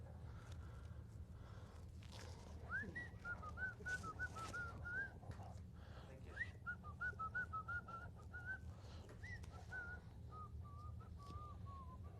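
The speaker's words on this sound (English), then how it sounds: "I wish I could get paid to whistle," A man whistles a melody in short repeated phrases over a low steady background hum, moderately close, with no talking.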